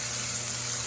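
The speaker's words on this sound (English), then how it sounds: "it's frying." Food sizzling in a frying pan in a home kitchen, a steady close hiss of frying with no talk over it.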